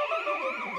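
A phone ringtone imitating a police siren wails with a rising and falling electronic tone, fairly loud and alone for under a second.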